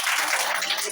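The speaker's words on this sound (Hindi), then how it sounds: "तो उनके लिए एक बार ताली बजा दीजिए आप लोग" Coaching-class children clap together for a Teachers' Day cake celebration, a brief burst of dense, close applause lasting about a second, with voices mixed in.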